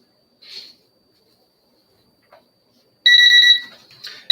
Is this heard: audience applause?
no